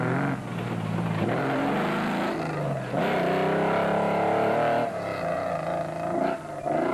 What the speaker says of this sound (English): A major misfire that affected their power very heavily